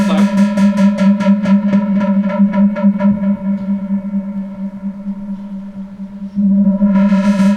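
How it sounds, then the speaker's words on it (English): An Arturia synthesizer plays through its analog filter, giving a loud, buzzy sustained tone with rapid rhythmic pulses that gradually darken and thin as the filter closes, then brighten again near the end. "there is an analog filter, which sounds like this."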